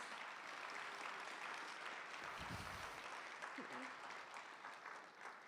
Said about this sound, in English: please join me once again in applauding all of our new National Honor Society